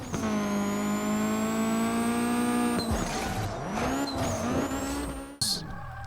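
JDM car drifting through city streets in a racing video game: a loud, sustained engine drone with a high tire squeal over it, the pitch shifting mid-run as the car slides, then a sharp burst near the end.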